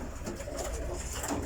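A brief moment of low pigeon cooing from a loft, soft and close, mixed with faint rustling.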